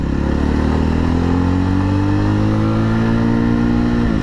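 A 2024 Yezdi Roadster motorcycle pulls away in first gear on the way to a highway, its engine note rising steadily in pitch as it revs, loud and close throughout with no voices.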